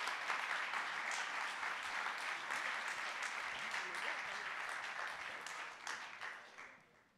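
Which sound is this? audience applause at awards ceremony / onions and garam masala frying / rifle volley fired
audience applause at awards ceremony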